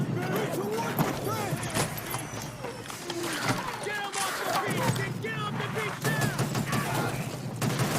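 Gunfire from a video game shown at an E3 2005 presentation, scattered shots and bursts heard under near-constant overlapping chatter from several people.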